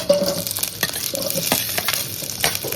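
Eggplant and tomato curry frying in hot oil in a pan, with a steady bright sizzle broken by several sharp stirring scrapes, close and loud with no voices.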